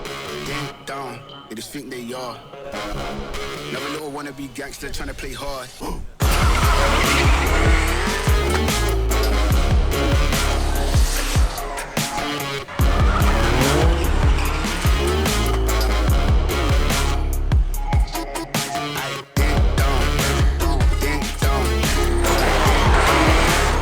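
A drift car skids with squealing tires on the new Kietrz track during round 74 of Drift Open, its engine roar and tire screech loud and continuous beneath heavy music for most of the stretch.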